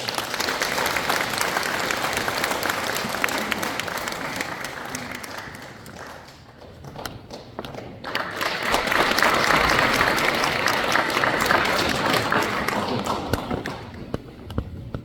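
An audience applauds at a Korean commemoration ceremony for President Syngman Rhee's 149th birthday, a full sustained round of clapping that dips midway, then swells again and carries on loudly.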